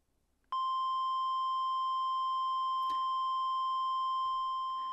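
A steady synthesizer tone with its envelope latched sounds after a short click and rings on at constant pitch, sustaining without decay, with a faint tap or two in the background.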